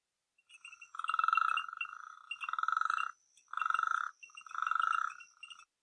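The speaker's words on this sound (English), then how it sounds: "that sounds like a bunch of drunk plumbers banging on pipes, but it's actually frogs and crickets" A frog's rapid pulsing croaks in four bursts at night, clear and fairly close, with faint high cricket chirping beneath and quiet gaps between calls.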